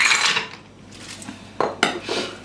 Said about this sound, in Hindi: बीच में आप डालेंगे आइस।